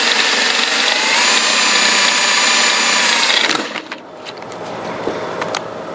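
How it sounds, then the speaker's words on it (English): Drill bit being sharpened on a power grinder, a loud steady whirring grind for about three and a half seconds that then cuts off, leaving faint clicks and workshop handling noise. "I think I'll go sharpen this bit again."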